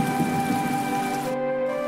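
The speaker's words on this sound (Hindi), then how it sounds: "बाबा, ये तो बहुत तेज बारिश हो रही है।" Heavy rain pours steadily in a village, a dense continuous hiss with a faint background hum and no voices.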